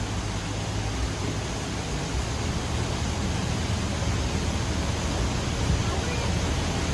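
Waterfalls along an indoor resort river at Gaylord Opryland produce a steady, broad rush of falling water that holds constant and fairly loud throughout, with no distinct voices above it.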